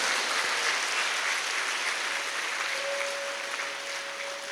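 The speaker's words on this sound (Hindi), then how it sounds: "सभी एक दूसरे के उत्साह वर्धन में तालियों की गड़गड़ाहट कर रहे हैं।" A large satsang audience claps together in sustained, steady applause, dense and even throughout, with a faint held tone rising near the end.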